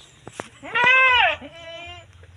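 Goat bleats, a few short calls then one long, loud wavering bleat and a quieter trailing bleat, heard close at a livestock pen with a faint human voice in the background.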